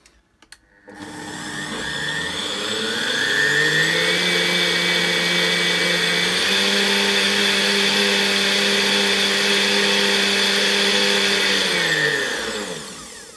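Blender blitzing boiled cauliflower into a purée, spinning up after a short click and rising to a loud, steady motor whine that holds for several seconds, shifts pitch slightly as the contents smooth out, then winds down, with no talk.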